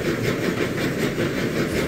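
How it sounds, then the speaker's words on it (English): A train rumbles steadily along the track, a continuous loud rolling noise with faint rhythmic pulses. "Both engines lapped as they made their way to Crowman's Gate in tow."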